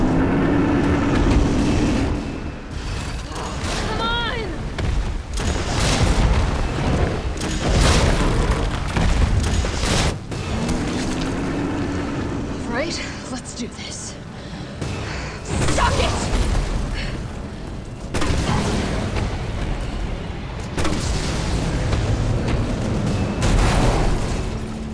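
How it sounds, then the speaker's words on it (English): Rocket launcher blasts in Resident Evil 3, a string of loud booming explosions with mechanical clatter and a roaring game soundtrack running continuously beneath them. "we're gonna use infinite rocket launcher for time's sake"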